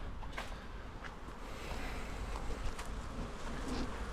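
Honeybees buzzing steadily at an apiary hive in early September, a dense continuous hum close by with occasional louder passes as individual bees fly near, alone without voices.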